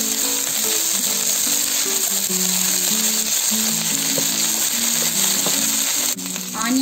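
Spiced ingredients for catfish biryani fry in a pan, producing a loud, continuous close sizzle with a steady hiss, over faint background music.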